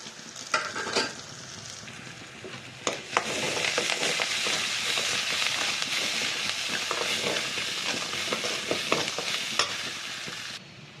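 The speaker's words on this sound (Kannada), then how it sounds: "ಇಲ್ಲಿ ಒಂದು 4 ಎಸಳು ಬೆಳ್ಳುಳ್ಳಿಯನ್ನು ಕಟ್ ಮಾಡ್ಕೊಂಡು ಹಾಕ್ತಾ ಇದ್ದೀನಿ" Chopped garlic and onion fry in a pan for an okra stir-fry, giving a steady, close sizzle that swells after a few seconds, with scattered scraping clicks from stirring and no voices.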